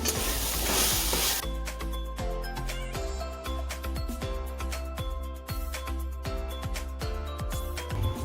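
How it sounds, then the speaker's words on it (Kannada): Coriander leaves stirred into a frying bread-toast stuffing in a pan, giving a steady loud sizzle with repeated clicks and scrapes of stirring throughout. "ಕೊತ್ತಂಬರಿ ಸೊಪ್ಪನ್ನ ಹಾಕಾದ್ಮೇಲೆ ಚೆನ್ನಾಗಿ ಫ್ರೈನ ಮಾಡ್ಕೊತೀನಿ"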